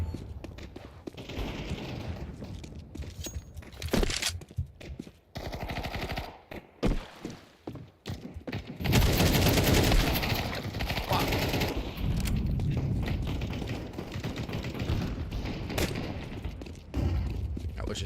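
Loud, rapid video-game gunfire from a pistol, with shots cracking in dense, repeated bursts and a sustained volley through the second half, with no talking.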